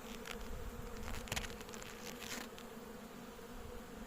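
Honeybees buzz continuously at an open hive during an inspection in Istanbul, a faint, even drone of many insects with occasional closer passes.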